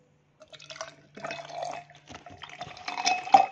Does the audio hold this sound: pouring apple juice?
yes